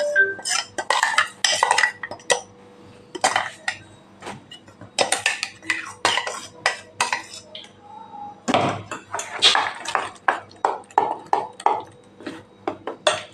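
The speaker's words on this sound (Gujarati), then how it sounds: "આપણે અહીંયા મિક્સર જારની અંદરથી બધું એક બાઉલની અંદર લઈ લેશું" Bottle gourd batter is moved from a mixer jar into a bowl, with a spoon clinking and scraping against the jar in irregular bursts of close, sharp taps.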